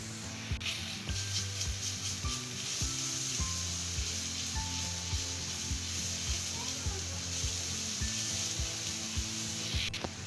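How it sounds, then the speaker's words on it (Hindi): Garlic frying in two tablespoons of hot oil in a kadhai, a steady close sizzle running throughout with some stirring and scraping. "2 टेबल स्पून मैंने ऑयल ले लिया है यहाँ पर कढ़ाई में। लहसुन जाएगा"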